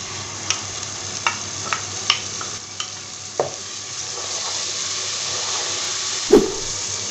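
Tomato paste made from three to four tomatoes goes into a masala frying in a pan for kala chana, giving a steady sizzle and hiss with scattered stirring clicks and one sharper clatter near the end, close and without talk.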